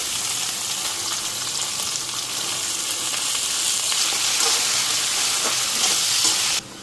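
Onion dropped into a pan of lightly fried potatoes, a loud, continuous hiss of sizzling oil with faint stirring scrapes, steady throughout before cutting off abruptly at the end.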